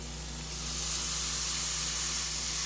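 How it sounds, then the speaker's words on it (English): Loud, steady hiss of T-bone steak sizzling on a hot grill, swelling slightly after the first moment and holding constant. "Hear the sizzle?"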